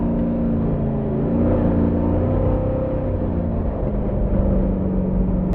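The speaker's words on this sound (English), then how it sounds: "I absolutely love the turbo noises too, by the way" A 600hp street-legal Ultra4 "Diamond T" truck with a 1940s body shell drones loudly from inside the cab, a steady engine and turbo whir with shifting tones that rise and fall under heavy road rumble.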